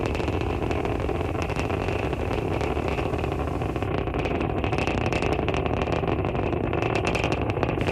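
Deep, steady roar of a SpaceX Falcon 9 first stage climbing through max Q on a SPAINSAT NG I launch, a dense continuous broadband rumble with no letup, heard from a distance with no voices.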